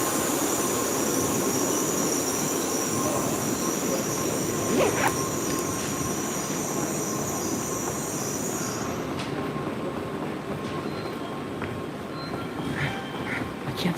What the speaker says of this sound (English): the train is gonna blow by